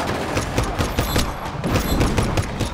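Rapid, dense pistol gunfire crackles continuously from start to finish in Just Cause, sharp repeated shots layered over a busy game soundscape with explosions.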